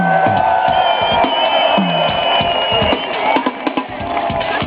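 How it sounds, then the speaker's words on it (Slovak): A festival crowd claps and cheers for a musician, loud, dense applause with whoops and scattered shouts continuing throughout. "Dajte mu veľký potlesk tomuto muzikantovi."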